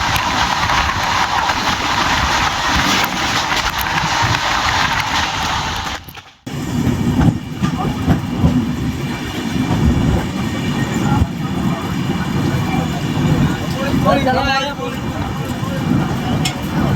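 Veraval - Thiruvananthapuram express train running at speed, a steady loud rumble and rattle of railway carriages throughout, with a brief dip partway and someone talking over it.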